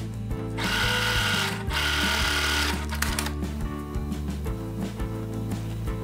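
Sewing machine stitching the bottom of a checked fabric hobo bag pocket, a loud steady mechanical whir running in two long bursts with a short pause between, then lighter intermittent stitching.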